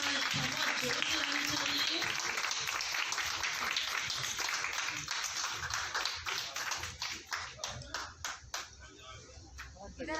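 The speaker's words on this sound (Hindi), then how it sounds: "जोरदार तालियां चाहिए।" Applause from an audience at a retirement function, a dense patter of many hands clapping that thins out toward the end into scattered separate claps, with some voices mixed in.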